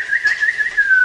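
A person whistles a sustained, slightly wavering bird-like tone with small trills, imitating a bird, clear and close with no other sounds.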